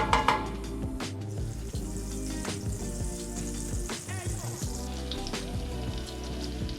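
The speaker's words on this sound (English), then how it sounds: "we're gonna throw our pork chops in there and get a really nice sear on them" Pork chops sear over medium heat in olive oil and butter, producing a continuous crackling sizzle with occasional clinks of a utensil. Tonal background music plays underneath.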